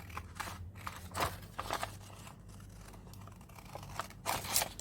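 Nail scissors cut through paper in quick, crisp snips, spaced irregularly over a low hum. The snipping is quiet and near, with no talking.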